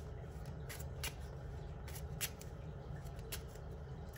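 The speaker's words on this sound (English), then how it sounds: "Let's see if I can shuffle, because my nails are a little bit shorter." Playing cards are shuffled at a game night, a quiet, close run of crisp riffling bursts and soft flicks repeating irregularly, with no talk.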